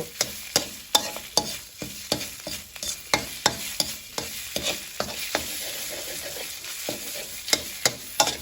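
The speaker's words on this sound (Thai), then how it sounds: "คั่วพริกแกงให้หอมกันเลยค่ะ" Red curry paste is stir-fried in a pan for spicy catfish curry, producing a steady sizzle punctuated by sharp, regular spatula clacks and scrapes roughly every half second, close and alone.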